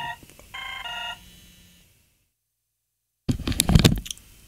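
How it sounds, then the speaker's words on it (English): A phone rings with a short run of bright electronic ringtone beeps, then goes silent before a burst of handling noise and a voice. "Who the fuck has decided to fucking phone me?"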